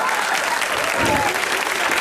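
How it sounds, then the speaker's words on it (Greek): Applause from an audience for a competing team at a hip hop dance contest, a dense continuous clatter of clapping hands, loud and close throughout. "Ένα χειροκρότημα για τα παιδιά."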